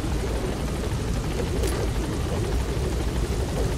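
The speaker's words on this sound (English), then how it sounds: "all you gotta do is to call your chopper to pick you up" Helicopter in the Metal Gear Solid 5 video game arriving to pick up the player, a steady broadband rotor and engine roar holding at constant loudness throughout, with no talk.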